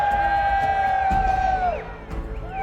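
The arena crowd at the Rocket League world championship cheers and whoops with one long sustained shout, a loud, steady roar that briefly dips before swelling again.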